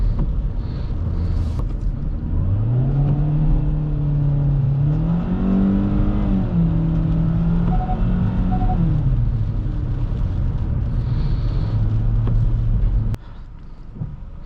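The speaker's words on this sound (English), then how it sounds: "time to test the acceleration" A 2019 Kia Forte compact sedan accelerating hard in sport mode on a wet road, its engine note climbing steadily and rising in pitch through several gear changes, loud and close, then dropping to a lower steady drone before cutting off abruptly.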